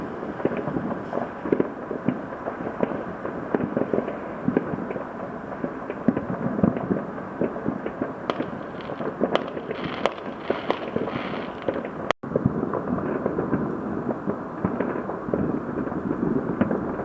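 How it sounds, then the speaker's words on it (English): Fireworks go off at night in a continuous, dense crackle and boom from many distant bursts that blend into a steady roar, with no pause in the barrage. "There'll just be the constant sound of fireworks till probably 1 o'clock"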